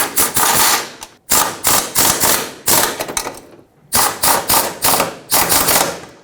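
A ratchet tightens the bumper-to-frame bracket bolts on a 1995-2004 Toyota Tacoma, giving loud, rapid metallic clicking in five bursts separated by short pauses.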